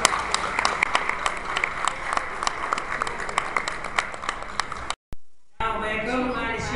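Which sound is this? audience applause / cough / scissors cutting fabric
audience applause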